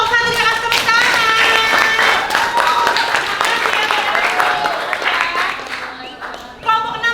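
A room of people claps steadily for several seconds, a dense patter of applause mixed with voices, close and loud, tapering toward the end.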